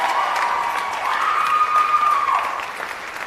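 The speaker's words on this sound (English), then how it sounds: "One more time, give them a round of applause." An audience at a fall dance concert applauds the dancers with steady clapping and some cheering, sustained at moderate volume, with a faint tonal whistle or whoop rising above it partway through.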